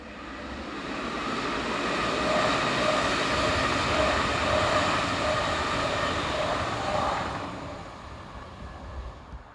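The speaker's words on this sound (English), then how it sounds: "Trains are operated every hour mainly using Class 423 units," A Class 423 electric multiple-unit train rolls past on a European line, a loud broadband rumble and whine that swells, holds for several seconds, then fades away; no voices.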